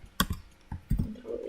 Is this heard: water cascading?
no